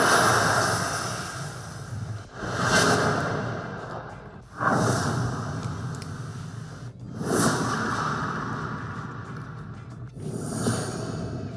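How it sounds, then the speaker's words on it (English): Heavy whoosh sound effects for an After Effects SaaS animation, several broad swelling sweeps sounding one after another at roughly two-second intervals, loud and full with no voices. "let's look for some heavier whooshes"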